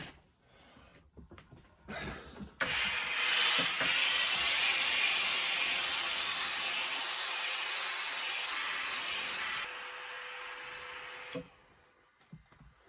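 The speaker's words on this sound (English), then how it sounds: "So I'm going to give the hat a bit of a steam around the grosgrain now" A steamer hisses loudly and continuously around the grosgrain band of a Borsalino hat for about nine seconds, framed by quieter handling clicks and rustles before and after.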